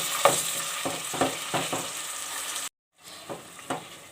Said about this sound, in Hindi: क़ीमा मैंने हल्का सा भून लिया है।